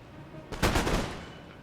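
Musket volley from a line of riflemen in Empire Total War, a sudden loud crackling burst of many overlapping shots that rolls out and fades over about a second.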